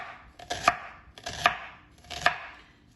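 Onion being cut into small pieces on a cutting board, three evenly spaced knife chops about three-quarters of a second apart, close and crisp with no talking.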